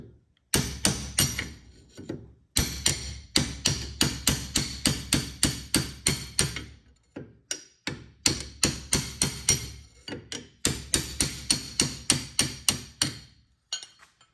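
A long chisel is hammered to drive out a brake part on a Ford Pinto, in rapid bursts of loud, ringing metal strikes separated by short pauses, close and with no voices.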